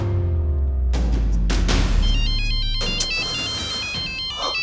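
A phone ringtone plays loudly on its own in a home, a repeating electronic melody of bright tones that starts about a second in and continues without pause, with no talking over it.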